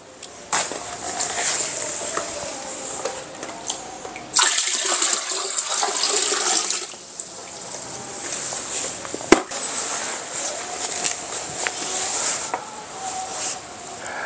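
A booster pump pushes water upward through plumbing, giving a steady rushing flow with gurgling surges and occasional knocks and clicks, heard nearby at moderate level.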